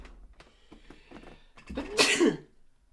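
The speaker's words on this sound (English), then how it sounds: "Oh, I got to sneeze." A single loud, sharp sneeze bursts out after a moment of quiet breathing and small mouth noises, close to the listener.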